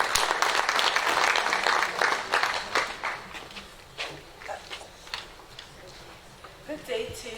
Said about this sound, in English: Can we just clap hands for her when she comes in?